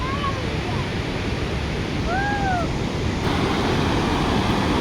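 Heavy water rushes in a fast, powerful flow, a loud continuous roar filling the whole stretch with no break.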